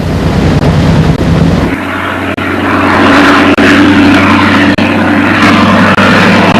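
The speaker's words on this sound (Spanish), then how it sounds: "El DR-1 era pequeño, ligero y utilizaba un motor de rotación." A Fokker DR-1 triplane with its rotary engine drones loudly and steadily in flight, the continuous propeller roar rising slightly after a brief dip early on and holding full and close throughout.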